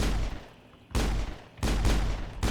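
Bursts of gunfire from a Mass Effect game: three loud, broadband volleys, the first and last sustained, separated by a short quieter gap, with no talk over them.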